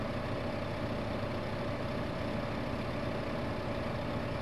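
A small tractor engine in Farming Simulator 15 labours steadily while pulling a heavy trailer, a continuous low drone with no speech.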